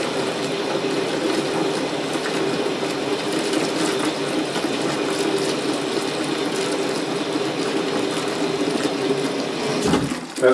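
Water pours steadily into a DIY off-grid camping clothes washer with diluted bleach, a loud continuous rushing stream lasting several seconds before a brief clunk at the end.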